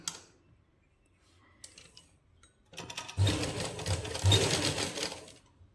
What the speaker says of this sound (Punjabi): ਪਹਿਲਾਂ ਉੱਪਰਲੀ ਸਾਈਡ ਆਪਾਂ ਸੀਨ ਲਾਵਾਂਗੇ